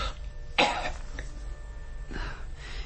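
A woman coughs in a radio drama: one sharp, close cough burst near the start, a smaller catch shortly after, then a second, softer cough a little later over a low room hum.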